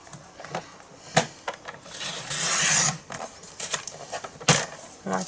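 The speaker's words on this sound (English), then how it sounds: "bring back my trimmer, and we're just going to cut around the other sides." A paper trimmer slices through cardstock while a card is made, producing close, dry rasping scrapes in short bursts with one longer sliding cut in the middle.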